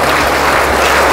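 Loud, unbroken group applause from an audience of farmers at a meeting, many hands clapping at once in a steady dense rush.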